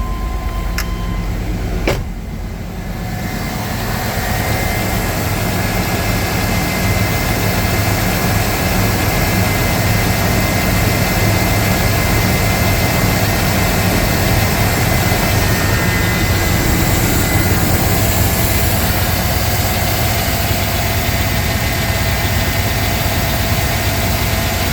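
A GMC Sierra truck engine runs steadily after a cold start, a loud, continuous droning idle heard close for over twenty seconds after a couple of brief clicks at the beginning.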